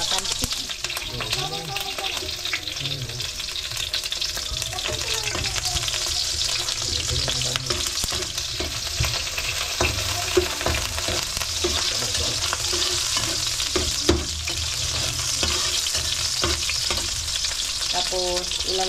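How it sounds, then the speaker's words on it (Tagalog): Garlic sizzles and fries in hot cooking oil for a cuttlefish adobo, a loud continuous crackle with occasional stirring scrapes and knocks, with no talk over it. "Ayan, nagpainit na ako ng mantika. Ilulunod ko na itong bawang."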